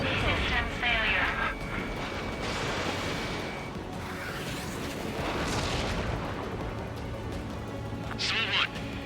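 Gunfire and explosive booms rattle around combat aircraft in a flight combat video game, a dense, continuous barrage mixed with jet roar as voices and cockpit warning calls sound over it.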